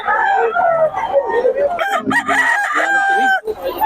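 A rooster offered for sale crows loudly and close by, its strained call stretching over several seconds amid clucking and bird noise.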